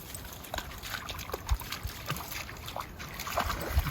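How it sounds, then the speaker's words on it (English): A Labrador splashes and plays in water at a campsite, producing soft, irregular sloshes and drips close by, fairly quiet with a few sharper splashes. "My lab, she likes the water."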